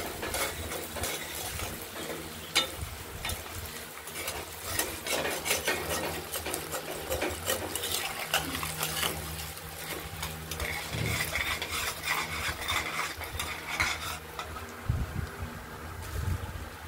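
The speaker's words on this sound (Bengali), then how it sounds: "শুকনো অবস্থায় চালগুলোকে আমরা তেলের মধ্যে ভেজে নিচ্ছি" Dry Gobindobhog rice fries in oil as it is stirred: close, busy scraping and rattling of grains against the pan over a light continuous sizzle, with no speech.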